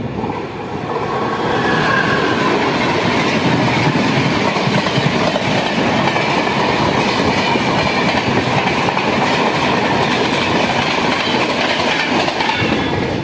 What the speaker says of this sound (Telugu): so Janshatabdi super fast express చాలా స్పీడ్ అయితే వెళ్ళిపోతుంది